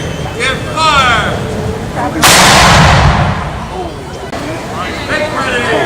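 A ceremonial cannon fires in a 21-gun salute, one loud booming blast that rolls out and fades, while voices and crowd chatter carry on before and after.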